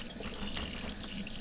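Tap water runs steadily into a sink while squirrel meat is rinsed, a close, continuous splashing hiss.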